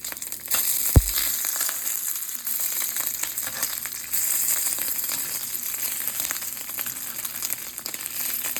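Beef fat renders in a hot pan while cooking steak, giving a steady, close crackling sizzle that runs throughout. One sharp knock is heard early on.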